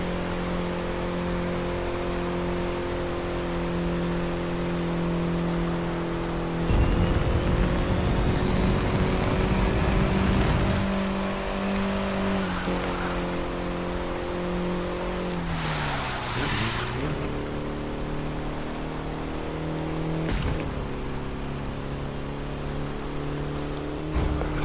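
A MINI Cooper S Countryman's engine drones steadily and loudly while racing along a Grand Canyon road in The Crew 2, its pitch holding high and rising slightly, with a rushing burst of wind and tyre noise partway through.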